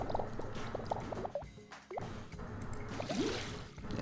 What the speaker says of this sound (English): Next, we have rough water.